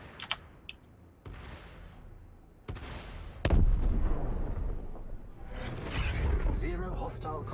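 Omni Skies size 2 ship guns in Star Citizen fire slowly in a space battle, a few sharp spaced blasts followed by rumbling impacts, with talk over the top.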